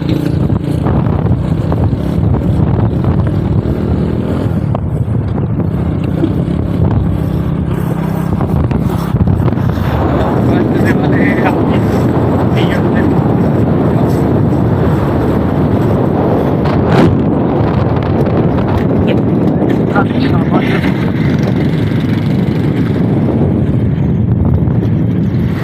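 Riding along on a motorbike through a university colony street, with a steady engine drone and heavy wind buffeting the microphone throughout, continuous and loud with no clear talk.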